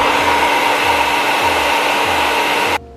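A hair dryer blows loudly and steadily while curly hair is being dried straight, a constant close roar that cuts off abruptly near the end.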